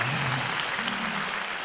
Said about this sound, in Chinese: 拍一拍手咪啊